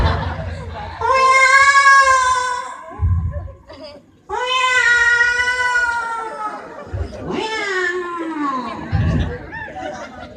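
A person imitates a cat, giving two long drawn-out meows followed by a shorter wailing one, loud and close, with brief laughter and chatter in the gaps.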